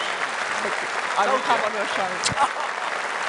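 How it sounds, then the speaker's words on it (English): Crowd applause and cheering at a Reform UK political rally in Birmingham, a steady wash of clapping under a man's speech, with a loud voice briefly rising above it. "Round of applause"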